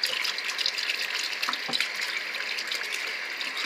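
Water runs from a household tap in a steady, close gushing stream that fills the whole short moment with an even splashing hiss.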